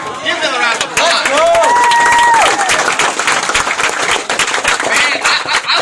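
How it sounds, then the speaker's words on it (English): A crowd at a Vemma Super Saturday business training event bursts into loud, dense applause, with a whoop or tonal voice sound rising over it early on, sustained throughout. "Give them a round of applause."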